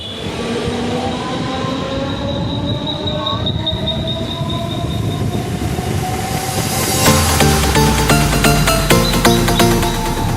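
A train at Dadar railway station rumbles steadily with a high squealing tone, then grows louder with rapid metallic clatter and rhythmic clicking as it passes close by.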